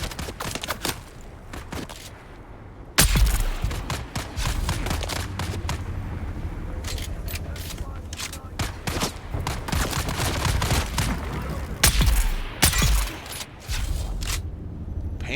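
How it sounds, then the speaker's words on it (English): Enemy guns fire in Dune: Awakening as a scattered run of sharp shots, some single and some in quick clusters. Heavier bursts land near the start and near the end, with little talk. "What is he shooting me with?"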